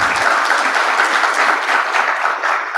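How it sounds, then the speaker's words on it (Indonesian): An audience claps and cheers at an Indonesian Partai Demokrat gathering, a dense, loud, sustained wash of applause from a large crowd filling the whole moment. "Boleh tepuk tangan lagi."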